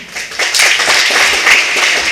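An audience claps at a medical college freshers day celebration, a dense close burst of applause with many hands striking steadily and loudly throughout.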